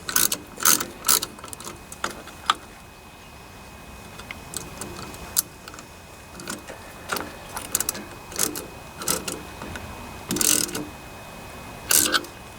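Sharp, rapid clicking of a ratchet being cranked down in bursts while removing a transmission from a Toro rear-engine mower, with pauses between strokes and a close, crisp metallic tick.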